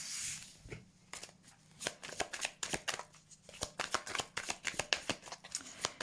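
Tarot cards being shuffled before a card draw, a quick run of crisp riffling and flicking bursts at moderate volume that grows busier and more rhythmic after the first second, with no talking.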